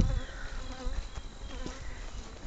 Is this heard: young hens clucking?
no